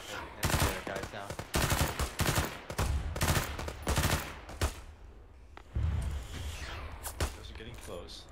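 Rapid gunfire in a combined-arms battle in the military game ArmA 3, set in the Western Sahara: loud close bursts of automatic shots in quick volleys with sharp cracks, then a pause and a few more heavy reports with echoing tails.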